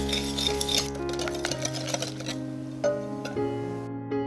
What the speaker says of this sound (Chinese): 稍微搅拌均匀